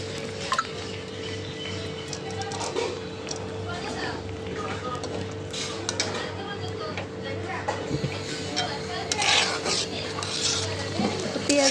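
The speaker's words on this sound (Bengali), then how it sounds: "দুধটা দিয়ে আবার অনেকক্ষণ কষাবো।" Korma with milk being stirred and sautéed in a pot, giving repeated scraping and light clinks of a spoon against metal under steady kitchen background hum, with occasional talking.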